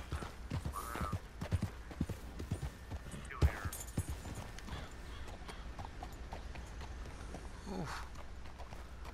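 Rhythmic hooves of galloping horses in Red Dead Redemption 2, clip-clopping at a brisk pace, loud thuds and clatters with a brief whinny, fairly close.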